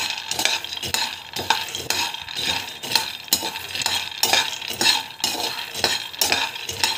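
Ingredients roasting in a pan while a spoon stirs them steadily, giving continuous scraping and a soft sizzle. The sound is close and unbroken, with no voices.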